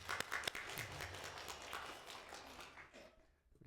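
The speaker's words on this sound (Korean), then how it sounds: "우리 하나님께 영광의 박수 올려드리겠습니다." Scattered applause from a church congregation, steady for a few seconds then tapering off, somewhat distant and soft.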